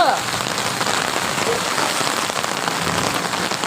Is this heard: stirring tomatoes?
no